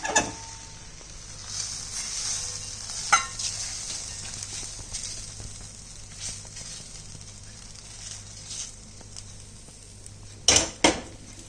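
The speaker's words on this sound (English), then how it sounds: "Now I'll transfer this into the serving bowl." Sabudana khichdi being scooped from a pan into a serving bowl, with scattered metallic clinks and scrapes of a spoon against cookware, quiet overall with a sharper clatter near the end.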